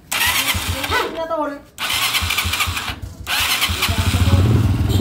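A motorcycle engine with a carburetor missing a nut cranks and sputters into life, cutting out briefly before catching and running with a throbbing idle while someone speaks.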